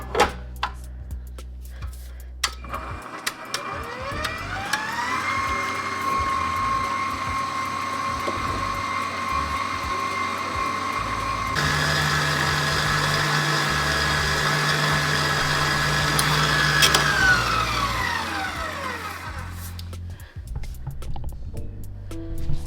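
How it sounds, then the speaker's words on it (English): Electric mixer whipping heavy cream toward homemade butter, a loud steady motor whine that shifts pitch partway through and winds down at the end, running alone. "We're gonna continue whipping past this stage."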